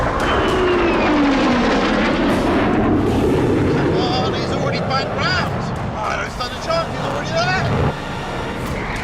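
An F-35 fighter jet roars past overhead during a challenge against a McLaren Speedtail, a loud broad rushing thunder that swells and fades while excited people shout close by.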